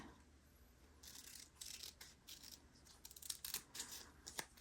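Scissors cutting paper into strips for journal pages: several faint, close crisp snips and rustles in quick irregular bursts, with no talk.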